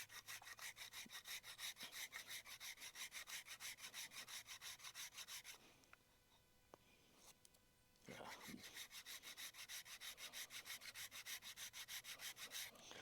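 A stick of fatwood dragged back and forth across a metal grater, fast rhythmic rasping strokes close by, pausing for a couple of seconds midway before the scraping resumes at the same steady pace.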